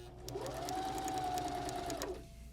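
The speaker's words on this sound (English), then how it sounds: "I'm going to go ahead and put my fabric under the presser foot and simply just press the foot pedal" A Baby Lock Zeal sewing machine runs steadily while stitching fabric under the presser foot, a close mechanical whir that starts, holds for about two seconds and winds down.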